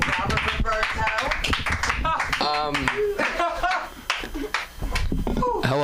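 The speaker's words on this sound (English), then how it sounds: "Give a round of applause for Robert." Audience clapping for a comedian at an open-mic night in a comedy club, the claps fairly close and mixed with voices and shouts throughout.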